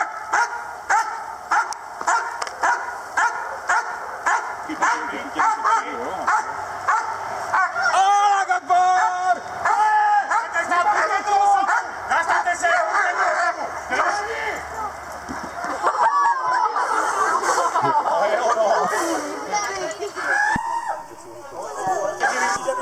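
Police dog barking repeatedly during a police canine training session, rapid loud barks and yelps close by, with handlers giving commands over the barking.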